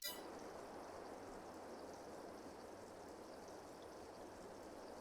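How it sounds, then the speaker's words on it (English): A steady, faint rush of running water starts right after silage is added in a farming video game, a continuous hiss-like stream that holds evenly throughout with no talk over it. "So there's a sound of kind of a running water sound coming as soon as that Bon silage went in."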